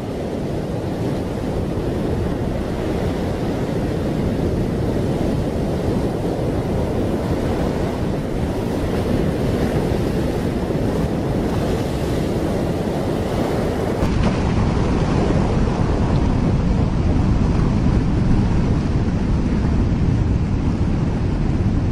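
Simulated rushing water and howling wind for an Earth with a bulging equator, a dense, steady, loud roar like heavy surf and gale that continues unbroken throughout.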